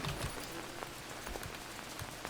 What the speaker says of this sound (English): And of course we've got plenty of rain